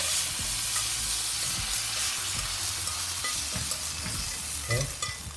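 Ribeye steak and green beans sizzling in a pan, with a continuous loud hiss and crackle of frying, punctuated by stirring and scraping noises close by and no talking.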